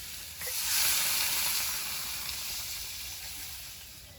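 Water poured into a pan of frying green peas sets off a sudden hissing sizzle that swells quickly, then settles into a softer, steady simmering hiss, fairly faint overall.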